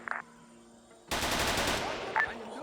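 After a short quiet stretch, a rattling burst of rapid automatic gunfire sounds off at a distance in a military video game set in Indochina, the continuous chatter lasting about a second and a half.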